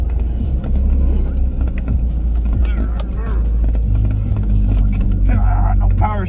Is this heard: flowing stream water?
no